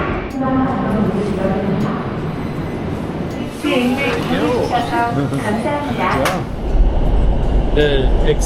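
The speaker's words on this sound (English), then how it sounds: "a section of brand new high-speed subway called the GTX opened up between Seoul Station and Paju" A brand new GTX high-speed subway train in Korea running between Seoul Station and Paju, with a steady interior rumble and rolling rail noise throughout, while people chat over it.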